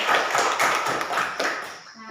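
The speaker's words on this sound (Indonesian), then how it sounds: "Iya, tepuk tangan untuk Beca." Classroom applause for a student named Beca, a short burst of uneven hand claps from a group of pupils, fairly close and steady for about two seconds before thinning out.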